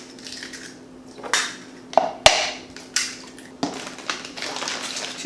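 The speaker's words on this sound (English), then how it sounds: "I'm gonna throw in 2 eggs." Two eggs crack against a sprayed mug in the kitchen, with sharp taps, brittle shell snaps and clinks, a few distinct hits spaced across the moment, close and clear.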